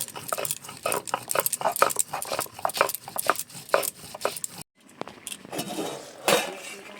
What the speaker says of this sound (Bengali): আমি এদিকে জিরে আর তার সাথে একটা রসুন কোয়া নিয়ে নিয়েছি, এগুলো একটু বেটে নেব।